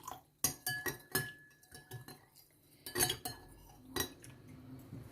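A mouthwash mixture being stirred in a cup, with a spoon clinking and tapping against the sides in irregular bursts, close and fairly quiet.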